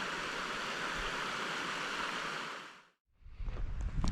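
The Dove River flows through the Dovedale valley with a steady, close rushing of water. The sound holds for about three seconds, cuts out abruptly, then swells back in.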